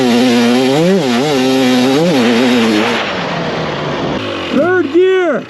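A 2024 GasGas MC250 two-stroke dirt bike engine revs hard and loud up close, with rising and falling pitch sweeps, then a pause before sharper blips; a voice talks over it.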